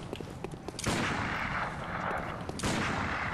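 Gunfire from the video game Bloodborne: a few sharp, loud shots ring out with heavy reverberant booms, the first around the one-second mark and another near the end, over a steady game ambience.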